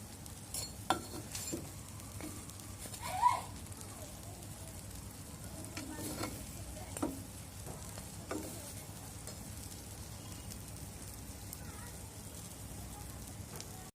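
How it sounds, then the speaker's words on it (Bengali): Chicken shawarma buns frying in a pan on a low flame, a faint soft sizzle with occasional light clinks and scrapes of utensils, no voices. "একেবারে লো ফ্লেমে 14 থেকে 15 মিনিট ভেজে নিতে হবে।"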